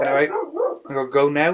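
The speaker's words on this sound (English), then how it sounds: "That's the dog barking" A dog barks and yips in quick bursts close by, with a person speaking briefly over the barking in a room around an O gauge model train layout.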